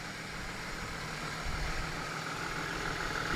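A Ford Mustang engine idles with a steady, low, even rumble that holds at a constant level and is heard alone, without any voices.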